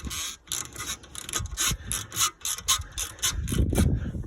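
A ratchet with an H7 socket undoing the front brake bolts on an Audi A4 B6, giving a rapid run of close, loud clicking pawl strokes in bursts, followed by a lower grinding rub.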